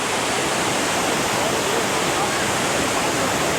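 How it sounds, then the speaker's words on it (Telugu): Cheyapara waterfall in Munnar, Kerala, pours milky white water down the hillside in a steady, dense, loud rush that fills the whole scene without a break. "మొత్తం వాటర్ అంతా కొండ పైనుండి వస్తున్నాయండి"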